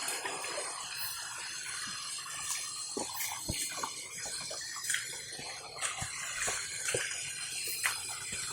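Clear water flowing from a mountain spring toward a waterfall, a continuous close splashing and trickling with scattered drips and gurgles throughout.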